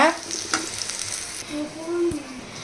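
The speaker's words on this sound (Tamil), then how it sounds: "அது வரைக்கும் நல்லா வதக்கி விட்டுக்கோங்க" Loud sizzling of tomato sautéing in a hot pan, with a few utensil scrapes and clinks as it is stirred.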